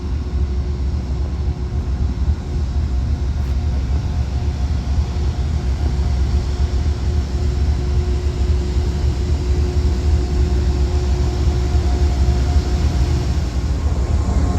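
An Amtrak P32 diesel locomotive pulls in, a steady loud low rumble with a faint sustained tone above it, unbroken and without talk throughout.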